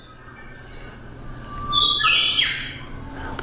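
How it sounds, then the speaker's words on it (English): Bird song setting on a white noise machine: a few bright chirps and squawking calls over a soft background hiss, with the loudest cluster of calls in the middle, close and clear, no speech. "bird song,"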